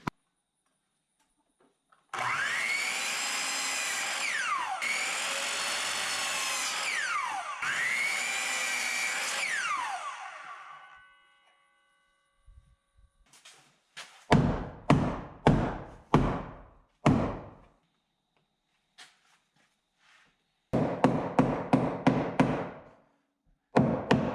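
Wooden shims for window framing are cut with a power saw in three sustained, loud whining passes, followed by a quick series of sharp knocks and snaps as the cut pieces are trimmed and broken off.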